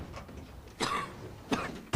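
Coughing in a cough medicine advert: two distinct, close coughs separated by a pause, with a short burst starting at the very end.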